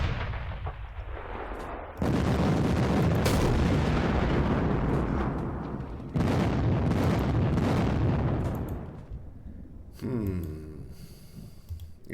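Heavy artillery booms roll out in long, rumbling bursts in the wargame Panzer Campaigns Kiev '43, two big volleys crashing and decaying loudly, followed by a shorter sharp report near the end.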